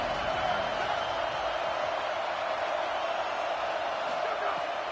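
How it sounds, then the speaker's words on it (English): A large football stadium crowd at a Michigan game roars as a continuous, distant-sounding wall of noise, steady throughout, with a commentator talking over it. "This crowd ready to make its presence known."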